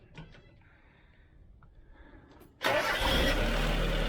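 A small Mitsubishi Jeep engine fitted with a Weber carburetor, already warmed up, cranks briefly and fires, then settles into a loud, steady close-up idle with no choke.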